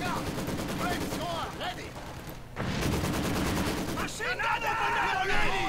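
Maxim machine gun firing in the World War II strategy game Company of Heroes 2, sustained rattling bursts of rapid fire mixed with other battle noise, pausing briefly before resuming, with someone talking over it.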